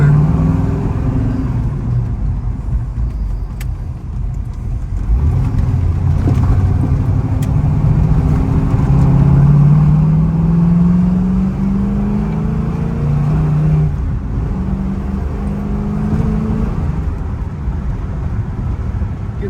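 A 1979 Pontiac Trans Am with a 400 engine and four-speed manual accelerating on a test drive, the close, loud engine rising in pitch through the gears with steady road noise throughout.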